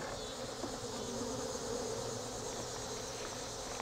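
Bees drone softly and steadily at a beehive whose colony may have absconded or be under robbing, a faint continuous buzz with no voices.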